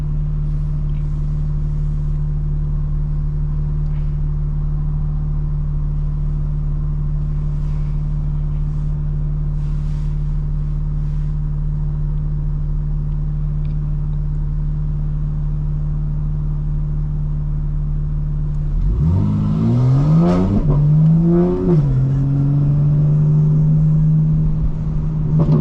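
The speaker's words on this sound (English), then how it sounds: "I'm doing the burbles for you too, you know?" Steady engine drone from a car driving through Atlanta streets dominates, then near the end the revs rise and fall and the exhaust pops and burbles loudly. No voices are heard.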